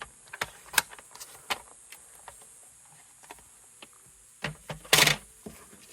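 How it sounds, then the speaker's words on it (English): Cardstock cut with a paper trimmer, sparse soft clicks and ticks, then a quick, louder slicing rasp near the end, close and quiet with no talking. "I'm going to cut it from the whole card, and then I'm going to cut it in half at 4 1/4"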